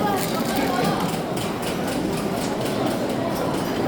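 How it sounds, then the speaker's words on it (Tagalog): A train departing Narita Tokyo Airport rumbles steadily, with a continuous low engine and wheel drone and faint rhythmic clatter of rail joints, heard from inside the car while people talk over it. "Sakay na kami ng tren."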